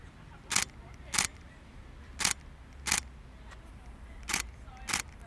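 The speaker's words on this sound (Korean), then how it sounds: "기계식 이 셔터 소리가 이 안에서 납니다" Simulated mechanical shutter of a Nikon Z6 full-frame mirrorless camera fires six times in a steady series, each a crisp, sharp click standing out clearly over a low background hum.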